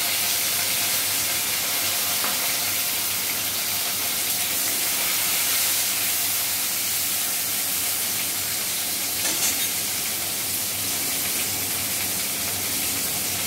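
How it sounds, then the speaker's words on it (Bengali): Bitter gourd pieces fry in hot mustard oil, giving a continuous, even sizzle that holds steady close by, with no talking over it. "প্রথমে উচ্ছেগুলো তেলে দিয়ে ভেজে তুলে রাখা হবে।"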